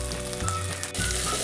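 Green chillies and garlic frying in hot oil, a loud continuous sizzle filling the short moment close up, without any talking.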